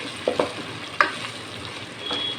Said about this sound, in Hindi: इसको बस 2-3 चक्कर दे तो इसका फ्राई हो जाता है अदरक लहसुन का पेस्ट